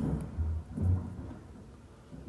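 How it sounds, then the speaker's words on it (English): Low rumbling thunder rolls in two heavy swells over a quiet background, deep and resonant, fading into a faint steady hiss between rumbles. "Thunder!"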